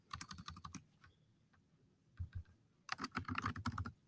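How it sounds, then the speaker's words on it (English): Fingers type on a computer keyboard in quick, quiet bursts of clicky keystrokes, a short run, a pause with a few isolated taps, then another rapid flurry. "So I'm going to type in Mexico Project."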